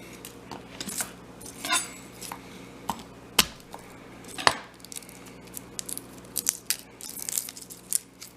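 A knife strikes a garlic clove on a cutting board, followed by scattered crackling and rustling as the papery skin is peeled away, with several sharp taps and crinkles spread over the stretch.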